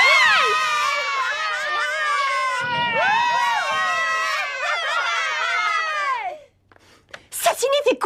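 Many children shout and yell at once in an animated scene, a loud continuous overlapping clamor of high voices that cuts off abruptly before a few brief sharp outbursts.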